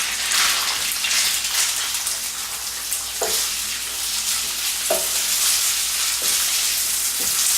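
Spaghetti drops into a pan of hot garlic and olive oil, setting off a steady, close sizzle with occasional soft clacks of stirring and no talking.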